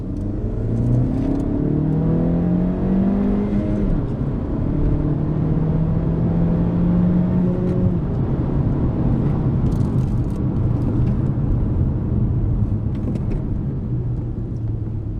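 A tuned car with a KTuner V2 tune accelerating in second gear, its engine note rising steadily in pitch under a continuous loud drone, with whirring from the turbo and no talking.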